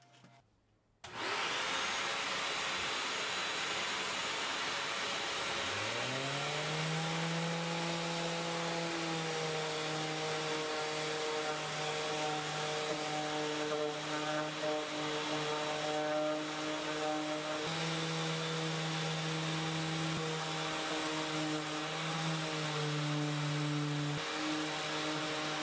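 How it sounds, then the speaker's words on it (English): An oscillating multi-tool sands the corners of a painted wooden chest of drawers, starting abruptly after a brief quiet moment and then droning steadily and loudly at close range, its pitch wavering slightly, with no talking. "This oscillating tool by SnapFresh was perfect for sanding these corners"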